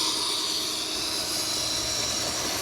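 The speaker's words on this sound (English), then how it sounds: "So this is full throttle in first." An RC car's electric motor runs at full throttle in first gear, a loud, continuous high-pitched whine that holds steady with no break for the whole stretch.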